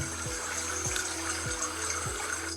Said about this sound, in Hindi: नदी का इफेक्ट हमने डाल दिया